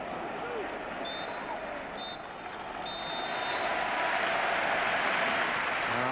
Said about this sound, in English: the Arsenal team come off to considerable applause